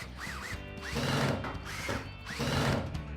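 A power drill drives screws into a bicycle rim in about four rising whirring bursts, each spinning up and bogging down briefly, close and moderately loud.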